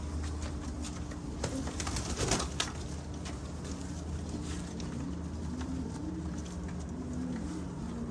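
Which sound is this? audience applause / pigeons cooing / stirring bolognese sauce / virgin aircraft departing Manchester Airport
pigeons cooing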